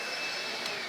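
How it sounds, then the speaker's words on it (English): Vacuum cleaner running in a workshop, a steady close whine with a high-pitched tonal hum and broad airy rush holding constant for about a second, with no voices. "I'm going to turn the vacuum on."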